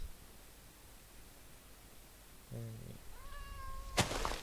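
A cat meows once from fairly close, a brief rising call over steady hiss and static, followed by a short rustling burst.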